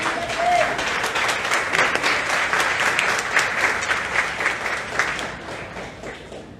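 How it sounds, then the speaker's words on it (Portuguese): A church congregation at a Portuguese-language service claps loudly and continuously, dense crowd applause mixed with some murmuring voices that tapers off toward the end. "Aplauda Jesus agora."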